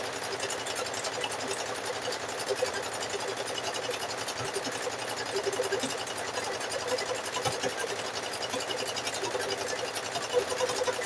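A sewing machine stitches a fabric-wrapped rope bowl in one continuous, steady run, a fast even mechanical chatter heard up close with no pauses and no speech.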